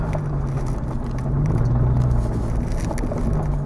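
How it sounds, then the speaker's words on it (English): A car approaching along a road beside a large tank range, a steady low rumble that swells slightly louder midway as it draws nearer, with no talking. "There's a vehicle coming this way."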